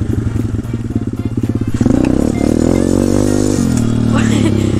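A small pit bike engine idles with a rapid throbbing putter, then revs up sharply into a loud, sustained high whine close to the microphone before easing back.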